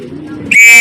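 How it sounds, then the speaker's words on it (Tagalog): A racing pigeon lets out a low, brief coo, followed by a sharp, thin whistle-like note, close and loud, with no talking over it. "pinakain na natin yung mga ibon natin"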